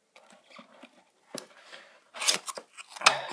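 Apple TV box being opened, with soft rustles and small scratchy cardboard and plastic sounds, then a couple of louder quick tearing or sliding noises near the end.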